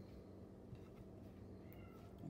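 A cat meows faintly in the background of a kitchen, its calls thin and distant beneath a steady low hum.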